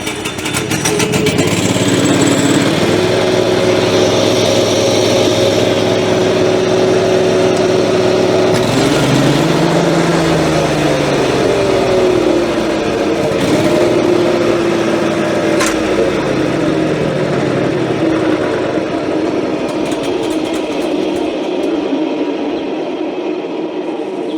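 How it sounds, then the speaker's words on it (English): A stump grinder's small gasoline engine runs steadily and loud throughout, its drone dipping and rising in pitch briefly partway through, with no talk over it. "engage the choke just to start it, and then we're going to turn it on, choke off."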